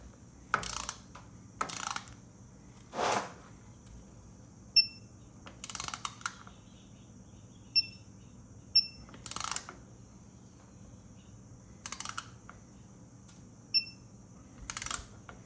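Ratchet working bolts on a Porsche G97/01 manual transmission case in a star pattern, heard as sparse, short clicking bursts spread over quiet gaps, with a few faint high metallic ticks, close and fairly soft, with no talk.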